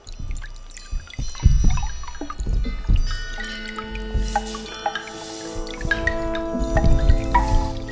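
An analog tape loop texture sample: layered music with wobbling sustained tones, scattered dripping and crackling transients, and a soft low rumble running throughout.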